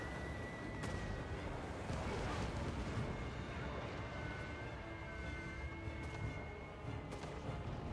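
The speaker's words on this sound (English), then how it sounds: "We just sort of saturate as many of their units as possible with these shots" Artillery fire in the Warhammer 2: Total War strategy game, a dense, continuous rumble of distant shots and fragmenting explosions layered over one another, with no pauses.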